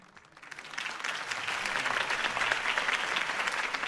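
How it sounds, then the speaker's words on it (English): Applause from a large crowd after a campaign speech in the video game Telltale Batman swells up from quiet and holds as a dense, steady wash of clapping. "If only Mr. Wayne, my campaign's largest backer, could have heard that applause"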